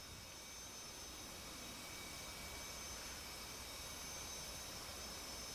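An F/A-18 Hornet jet engine idles steadily before takeoff in the DCS flight simulator, a constant broadband roar with a high whine, faint and unchanging throughout with no talk.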